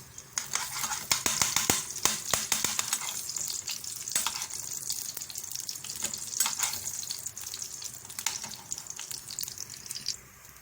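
Chicken liver sizzles and spits in a pan of hot ghee, a steady close crackle punctuated by sharp pops and scraping stirs over about ten seconds.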